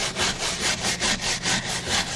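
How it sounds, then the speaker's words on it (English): A stiff bristle brush scrubs back and forth over freshly carved solid maple, giving about eight even, rhythmic raspy strokes, close and moderately loud, with no voices. "Definitely use a good stiff bristle brush and brush it."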